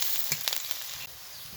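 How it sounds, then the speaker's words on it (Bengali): Chopped onion, garlic and green chilli masala fries in hot oil, giving a steady close sizzle with a few sharper crackles from stirring near the start, no voices. "মশলাটা একটু ভেজে নেবো ভালো করে।"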